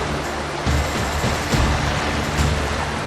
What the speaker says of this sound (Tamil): மெதுவான காற்று, அலைகள் மெதுவாக கப்பலை தழுவின.